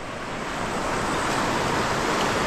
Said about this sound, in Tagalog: Ang lakas ng agos ng tubig dito, men.